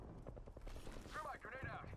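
Rapid gunfire crackles in an Apex-style battle royale game, a dense run of quick shots layered with mechanical clatter and game voice lines.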